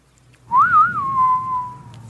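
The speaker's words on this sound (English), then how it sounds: "you do the whistle" A single sustained whistle from a person, rising and wavering briefly before holding a steady tone for over a second, close and clear.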